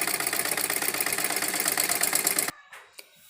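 A sewing machine stitches a salwar hem in a rapid, even mechanical rattle for about two and a half seconds, then stops abruptly, leaving a quiet room with a couple of faint handling knocks.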